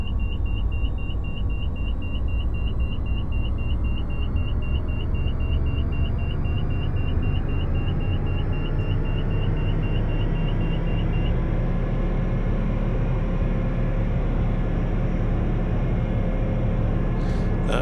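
Hughes H500C helicopter engine in Microsoft Flight Simulator, a steady loud turbine whine and rotor rumble that climbs gradually in pitch as throttle is raised, with a faint repeating warning beep over the first part.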